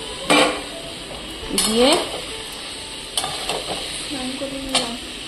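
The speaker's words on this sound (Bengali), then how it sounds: "এবার কিন্তু আমি এই এঁচোড়টাই দিয়ে দিব" Raw jackfruit tipped into cooked-down spice masala in a pan, with a few sharp clatters of a spoon against the pan and scraping stirs, a low sizzle underneath, and a brief word spoken near the start.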